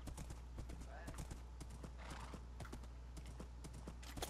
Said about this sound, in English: your horse literally just got excited when I got here